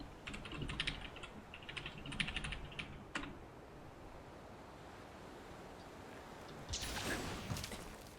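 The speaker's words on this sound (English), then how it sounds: "Let me type it out." Fingers tap a computer keyboard in quick bursts of clicks, close and fairly soft, with a pause before another short flurry of typing; no voices are heard.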